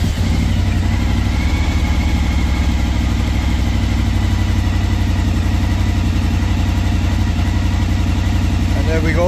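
A motorcycle engine runs at a steady idle, close and loud, its low rhythmic chugging continuous throughout with no pauses.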